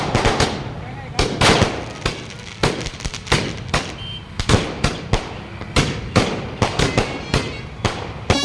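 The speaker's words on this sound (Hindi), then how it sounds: "आतिशबाजी कर जयंती उत्सव में उत्साह भरा गया।" Fireworks and firecrackers burst during a Parshuram Jayanti festival procession, with a dense, irregular string of loud sharp cracks and bangs, some in rapid clusters, over crowd noise.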